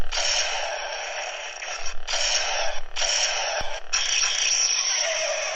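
Clash effect from a Qui-Gon Jinn Galaxy's Edge Legacy lightsaber toy: bright crackling, staticky bursts in several close, loud pulses separated by brief gaps, with no talking.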